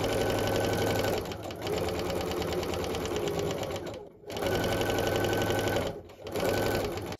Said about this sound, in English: I'm going to sew along one side first on a corner here from diagonal corner to corner.